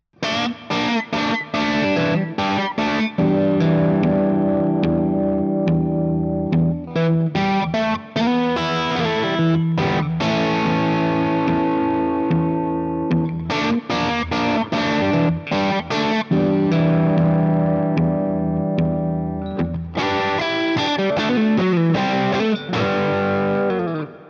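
A distorted electric guitar plays a driving riff with a chorus-like shimmer, chugging chords and quick runs repeating in loud, steady phrases with no talking.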